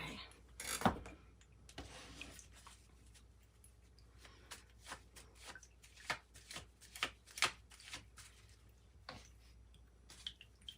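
A Rider-Waite tarot deck is shuffled close up, quiet irregular riffles and soft card slaps in short bursts, some louder than others, with pauses between them.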